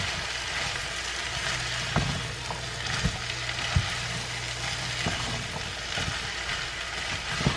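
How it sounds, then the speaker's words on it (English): Rinsed, drained canned red beans stirred into a pot with green pepper, onion and herbs, giving a steady sizzle with soft scraping and occasional spoon knocks, close and alone. "And I'm going to add those into my pot. We're just going to mix all that together."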